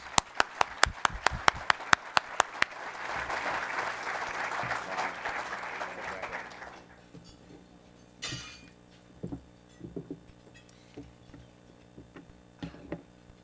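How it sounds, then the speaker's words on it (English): An audience applauds to welcome keynote speaker Lauren Templeton at a 2012 value investing conference, with a few sharp individual claps leading into a swell of crowd clapping that stops abruptly after about seven seconds, followed by sparse handling noises. "Give her a nice round of applause."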